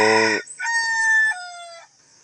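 A rooster on a Filipino backyard farm lets out one loud, close crow with a long, drawn-out ending, heard alone and clear.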